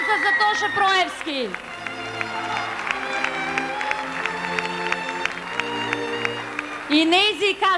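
Audience applause for a pop singer at a televised awards event naming him 1999 pop singer, a dense, sustained burst of clapping lasting several seconds, with a presenter's voice heard before and after it.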